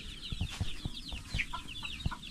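Mother hens cluck close by in quick, short, repeated bursts, several birds overlapping in an uneven rhythm.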